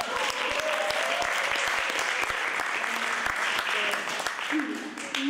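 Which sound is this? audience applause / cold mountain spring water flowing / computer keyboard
audience applause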